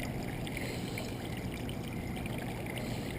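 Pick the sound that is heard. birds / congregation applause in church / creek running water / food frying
creek running water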